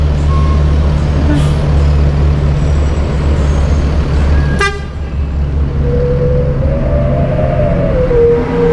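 A Gumarang Jaya intercity bus idles with a deep, steady engine drone up close, a sharp hiss of air brakes cutting in midway, and a tonal horn-like toot rising afterward.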